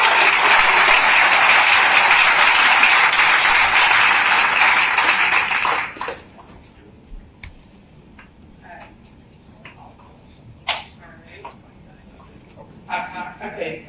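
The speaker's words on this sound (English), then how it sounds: "Can we give another round of applause?" Audience at a community meeting clapping loudly and steadily for about six seconds, then stopping abruptly, followed by scattered room noise, faint voices and small knocks.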